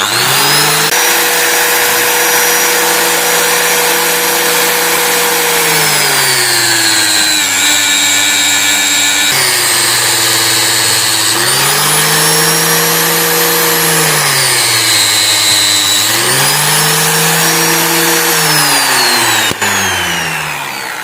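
A homemade cutting machine whines loudly and continuously up close while cutting rolls of duct tape, its motor pitch dipping and recovering several times under load.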